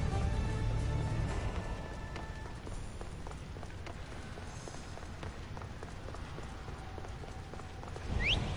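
A horse's hooves clip-clopping in Assassin's Creed Odyssey, a steady quick run of soft beats under game ambience, moderately loud and continuous, with no talk.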